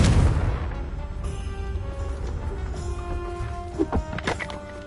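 A Confringo blasting spell from Hogwarts Legacy goes off with a heavy boom at the start, followed by a rumbling, crackling tail and a couple of smaller pops near the end.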